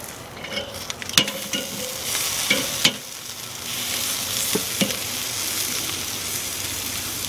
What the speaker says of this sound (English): So I'm going to flip it over and give it a chance to cook on the other side